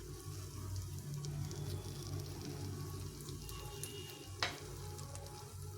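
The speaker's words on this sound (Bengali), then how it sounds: "আস্তে আস্তে ভেজে নিতে হবে।" Egg and carrot batter fries slowly in a covered pan over low heat, giving a steady soft sizzle throughout with a brief sharp clink near the end.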